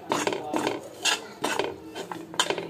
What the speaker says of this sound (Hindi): तो इन सबको मैं फटाफट मिक्स कर लेती हूँ।